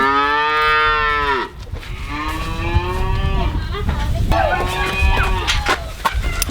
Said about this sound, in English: as you can hear, it's time to bring the cows in. They're all yelling.